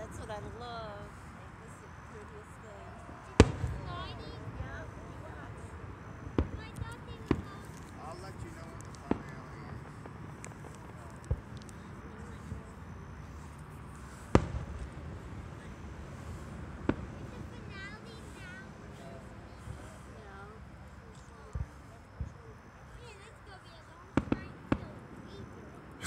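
Scattered fireworks burst over water at a local display, sharp booms popping at irregular intervals, some loud and some distant, while people chat throughout.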